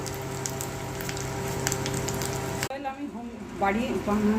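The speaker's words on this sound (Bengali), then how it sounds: "জিরে, শুকনো লঙ্কা আর তেজপাতা, আদা বাটা, এই যে ফোড়ন দিয়েছি" Cumin, dried chilli and bay leaf crackle in hot oil as a dense, steady sizzle that cuts off abruptly partway through, after which a voice is heard.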